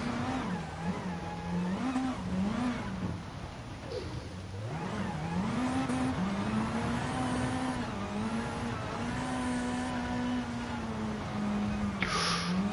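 A high-powered rally car engine in GT Sport, revving and sliding on a loose surface, with continuous loud engine drone rising and falling through gear changes and no pauses.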